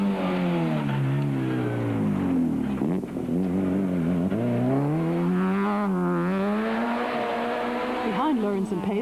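A Toyota Conquest rally car, a Class A6 entry, drives a stage with a strong, sustained engine note that rises and falls through gear changes and revs, close and loud throughout, with a commentator talking over it.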